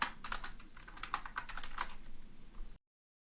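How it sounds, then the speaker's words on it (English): Quick, fairly close clicking of keys on a computer keyboard while code is typed, an irregular run of taps for under three seconds with no talk, ending abruptly in silence. "So I'm actually going to go ahead and type this out and then talk through it."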